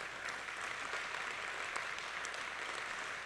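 Audience applause at an award evening, a dense, even wash of many hands clapping at moderate distance, sustained for a few seconds without talk.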